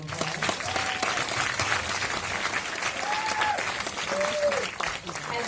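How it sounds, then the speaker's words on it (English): Audience applause at a film festival foundation event, dense continuous clapping from a large crowd, loud and steady, with occasional voices and cheers mixed in. "We can give her another round of applause."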